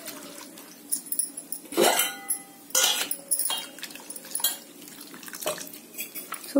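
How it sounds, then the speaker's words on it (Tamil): Water splashes and swishes in bursts as soaked rice is rinsed in a bowl, with brief pauses between sloshing movements and light clinks. "ஒரு 2 டு 3 டைம்ஸ் வந்து நம்ம தண்ணி ஊத்தி நல்லா அலசி எடுத்துக்கலாம்"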